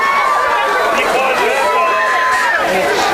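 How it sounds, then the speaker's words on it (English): A high school football crowd roars and cheers over a penalty in a state first-round game, a loud sustained wash of many voices with a public-address voice over it. "This crowd fired up over that penalty"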